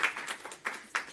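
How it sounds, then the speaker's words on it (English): Audience clapping at a patient empowerment summit in Washington DC, a short, fairly faint patter of applause with a few sharper claps near the end. "we want to give another round of applause for Molly and Caitlin"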